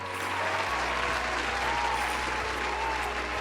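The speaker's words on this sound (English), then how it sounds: "Everybody give a round of applause for Gregory." A crowd gives a sustained round of applause, a steady wash of many hands clapping over a low, constant background hum.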